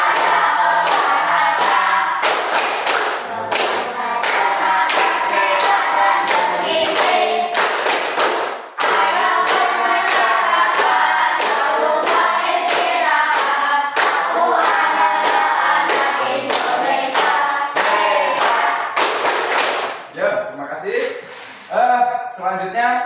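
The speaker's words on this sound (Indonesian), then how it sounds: "Tepuk 7 kebiasaan anak Indonesia hebat." A class of schoolchildren performs the Indonesian rhythmic clapping chant about seven habits of great Indonesian children, with quick, loud, steady hand claps mixed with chanted voices and ending in a brief ragged tail.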